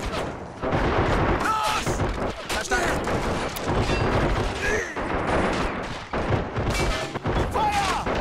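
Gunfire and explosions in the video game Men of War Assault Squad 2, dense bursts of shots and booms running continuously with shouted German voice commands over the battle.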